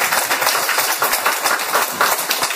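Audience applause at a Korean Catholic lecture by a priest: dense, continuous clapping from many hands in a hall, fairly loud and steady, with no talk over it.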